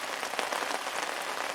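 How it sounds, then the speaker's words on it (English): Steady rain patters densely on a surface at a fishing lake after falling all night, a close, even hiss with no voices. "it's been raining all night"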